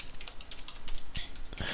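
Keystrokes on a computer keyboard, a scattered run of soft, quick clicks at moderate distance with a faint tonal hum in the background.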